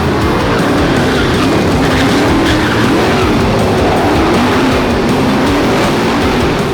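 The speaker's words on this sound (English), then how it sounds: "Van Heerden, who has been having handling issues, spins out" A race car spinning out in a racing video game, with a steady loud engine roar and tire squeal running unbroken for several seconds and no talking.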